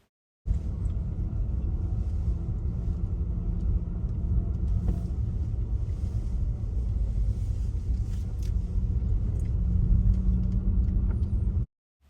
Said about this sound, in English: therefore I've decided to take you for a drive